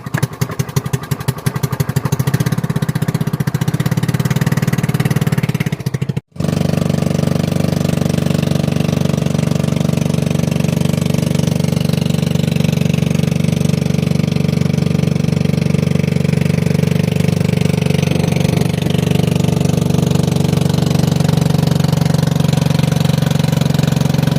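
A boat engine drones loudly and continuously throughout at sea off Siargao Island, with a brief dropout near the start, no voices over it.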